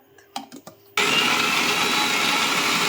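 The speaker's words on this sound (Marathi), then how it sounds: "तर यामध्ये आता भाजलेले शेंगदाणे आणि तीळ टाकून ह्याला आता एकजीव करून घेऊया।" A mixer grinder whirs up abruptly and runs loud and steady, blending roasted peanuts and sesame seeds for a capsicum masala curry, after a few faint knocks and clatters as the jar is set in place.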